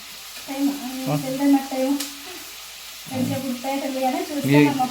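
Pasta with onion and tomato sizzles steadily in a pan on the stove, a continuous close frying hiss with a voice-like murmur running through it.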